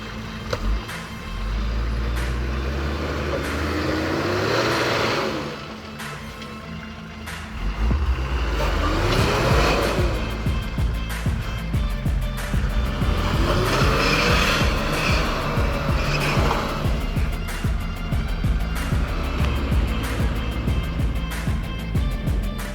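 A Nissan Patrol 4WD grinds along a rough powerline track in Mundaring, its engine revving up and easing off in repeated surges, loud and close with no talk over it.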